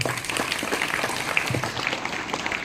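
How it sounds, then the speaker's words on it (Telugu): Students in a classroom gathering break into applause, a dense patter of many hands clapping steadily at moderate distance for a few seconds. "Claps please."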